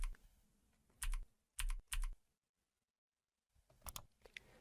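A computer keyboard clacks in a handful of distinct, fairly loud keystrokes, then goes silent for about a second before a final short cluster of presses.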